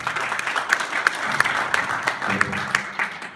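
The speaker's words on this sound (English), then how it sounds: "Can you give yourself a round of applause?" An audience claps in a brisk, dense burst of applause, close and fairly loud, with a short spoken word over it.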